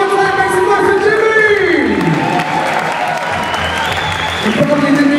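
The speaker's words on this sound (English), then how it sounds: "All right, one more time, make some noise for Jimmy" A crowd at a breakdance battle cheers and applauds loudly and continuously, with whoops rising over dense clapping and a sweeping tone in the background.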